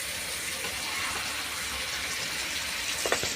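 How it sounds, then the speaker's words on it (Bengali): A small amount of water poured into a pan of meat and potatoes being cooked down: a soft, steady pouring hiss through the whole moment, ending in a couple of brief clinks. "অল্প একটু জল দিয়ে দেবো এখানে।"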